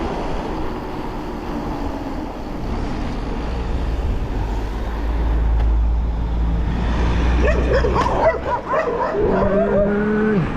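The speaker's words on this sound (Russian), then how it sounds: "Собаки хотели догнать меня." Dogs bark and yelp while chasing a cyclist on a road ride in Crimea, loud rapid barks breaking out near the end over rushing wind and road noise.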